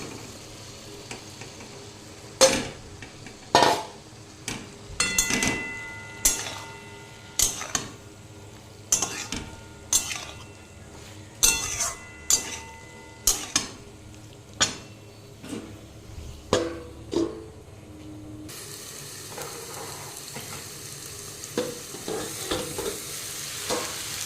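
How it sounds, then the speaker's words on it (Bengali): Fried potato and soybean chunks tumble into spices frying in a pan for a soybean-potato curry, with a steady sizzle broken by repeated sharp clinks and scrapes of a spoon against the pan, close and fairly loud. "মশলা থেকে তেল ছাড়লে আলু সয়াবিন ভেজে রাখাটা দিয়ে দেবো।"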